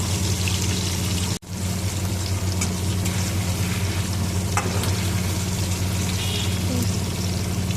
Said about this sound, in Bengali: তেলের মধ্যে একটু ঘি নিয়ে পনিরটাকে ভেজে নেব।